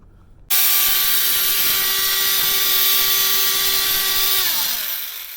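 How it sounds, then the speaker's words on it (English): Dremel rotary tool cutting slots in the metal base of a Roberts model, a high, steady whine held for about four seconds before the pitch falls as it spins down, close and loud. "what I've done is cut 2 more slots in here using my Dremel"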